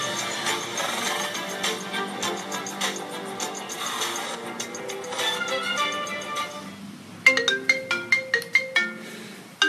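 A phone ringtone plays loudly and continuously, a melodic electronic tune that shifts into a rhythmic series of sharp repeated tones near the end, signalling an incoming call.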